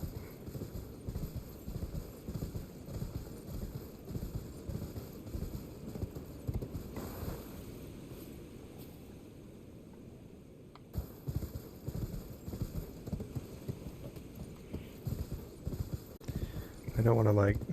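A horse ridden in Elden Ring gallops along with steady, rhythmic hoofbeats that carry on nearly throughout, with a brief lull midway.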